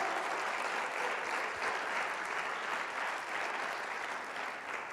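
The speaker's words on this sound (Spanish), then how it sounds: "Alguien dele un aplauso fuerte a Jesús" Congregation applause during a church sermon, a dense, even wash of clapping heard at moderate distance, sustained without a break and with no voices on top.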